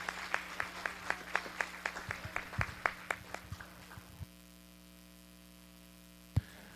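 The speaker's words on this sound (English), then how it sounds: "Let's give a good round of applause for these participants coming out here this week" Sparse, distinct claps ring out for youth participants at a Canadian Charolais cattle show, a thin round of about four seconds over electrical hum before stopping, with one late stray clap.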